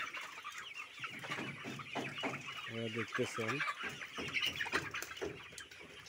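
Layer hens in a bamboo cage holding a thousand birds cluck and squawk continuously at close range, a dense flock chorus with someone talking briefly over it.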